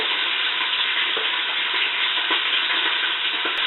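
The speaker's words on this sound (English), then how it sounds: "While my sausage is browning" Sausage browning in a pan for kale soup gives a steady, loud, dense sizzle and crackle that runs unbroken throughout, with a few faint stirring scrapes and no talking.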